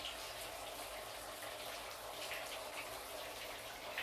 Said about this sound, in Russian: наполним немножко воды и начнем сейчас засыпать ячмень